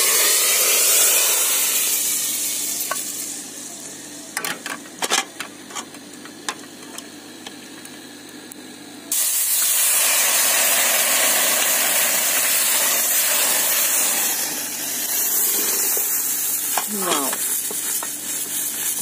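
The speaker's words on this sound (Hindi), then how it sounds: "मैं तड़का डालती हूँ।" Hot white cumin tempering hits a pot of cooked dal with a sudden loud sizzle that hisses and spatters steadily, following quieter stirring and clinks in a home kitchen.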